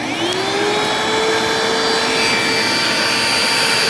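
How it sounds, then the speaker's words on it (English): A Bissell carpet cleaner runs loud and close on a paint-stained rug, a constant whining motor drone with no pauses and no speech. "So here goes the Bissell."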